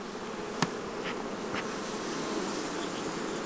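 Honey bees buzzing at an opened hive, a close, continuous drone with individual bees whizzing past the microphone.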